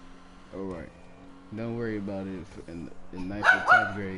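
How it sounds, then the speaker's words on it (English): A pet dog in a home barks and yips a few times, close and loud, over a person talking. "I'm sorry about my dog."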